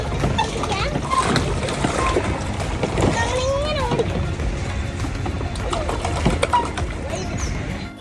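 A small rowboat with children aboard is paddled across a park lake, water splashing and sloshing around the oars at close range, while a person talks over it and some people can be heard in the background.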